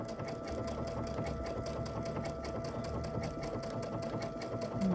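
Sewing machine stitching appliqué fabric for an owl pin cushion, a steady fast mechanical whir with rapid needle clatter running continuously and close for the whole stretch, with no talk.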